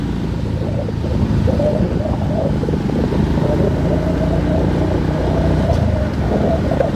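Steady rumble of a long morning traffic jam on the Andaya highway in Bicol, with cars and heavier vehicles idling and edging forward nearby, continuous and fairly loud, no voices.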